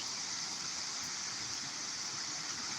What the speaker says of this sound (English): So this is a good view of the Rio Grande River.